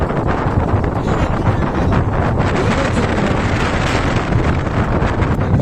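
Strong wind blows across a tourist boat on the Papikondalu river trip, loud rumbling gusts buffeting the microphone continuously, with a faint wash of water beneath and no talking.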